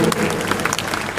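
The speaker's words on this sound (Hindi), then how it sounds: "आपकी तालियों में कंजूसी ना हो।" Brief burst of audience applause for a student at a school board-exam award ceremony, a thick continuous clapping wash with a little crowd noise, loud and close.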